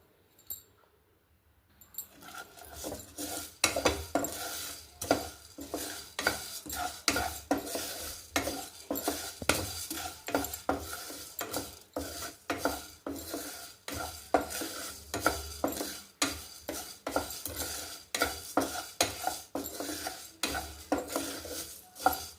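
Whole spices dry-roasting on a low flame for a prawn curry, stirred continuously in a rhythmic run of scraping, rattling strokes against the pan, starting after a brief silence and going on steadily.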